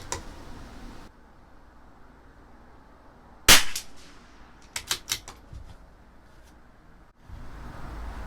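A CZ 457 LRP rimfire rifle with an IBI barrel fires a single loud, sharp shot followed by a few quick, fainter cracks and clicks amid quiet outdoor background, without speech.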